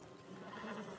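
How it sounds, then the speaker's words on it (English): A horse whinnies in the Western game Red Dead Redemption 2, a steady close neigh running the full second with no talk over it. "Marston, you're gonna tether him up to Javier's horse."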